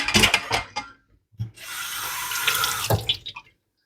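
A kitchen tap runs into the sink, opening with splashing and clatter, a short pause, then a steady close rush of flowing water before it shuts off; no voices.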